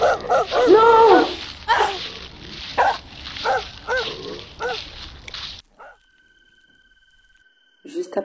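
Several dogs barking and growling in a tense chase scene, a run of loud, rhythmic barks and snarls up close that abruptly cut to near silence, then a final bark burst at the very end.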